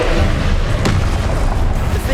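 The Confringo explosion spell cast in Hogwarts Legacy, heard as a loud, dense blast with a brief sharp burst near the middle, set within constant heavy combat noise.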